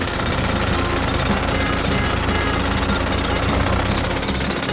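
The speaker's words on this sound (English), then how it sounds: "Luigi, I want to borrow your pencil drill." A small pencil drill rattling continuously at close range, a loud, rapid, hammering buzz that holds steady from start to finish with no voices over it.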